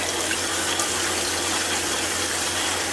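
Cool tap water runs steadily over a broken doll being rinsed, a constant, fairly loud hissing splash close by with no pauses and no talking.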